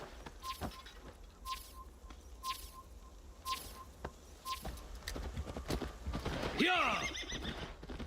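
A horse in Assassin's Creed Valhalla gallops with evenly spaced hoof beats, then lets out a loud, close whinny near the end, with a voice briefly calling out over it.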